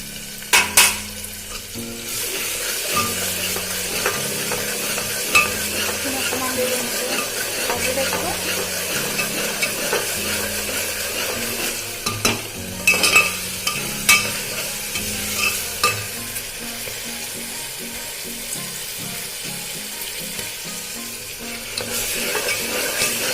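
Salted vegetables fry for vegetable pulao with a constant sizzling hiss, punctuated by repeated scraping and clinking as a spatula stirs them around the pan.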